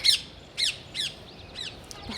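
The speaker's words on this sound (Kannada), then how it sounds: "ನೋಡಿ, ನನ್ನ ಫೇವ್ರೆಟ್ ಕಾಗೆ ಬಂದಿದೆ." A crow caws four times in a steady rhythm, sharp harsh calls standing out against faint outdoor background with no talk.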